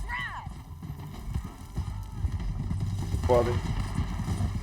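A horse gallops in the video game Red Dead Redemption 2, hooves pounding in a quick steady rhythm beneath a brief neigh, with rumbling action ambience and characters shouting over the ride.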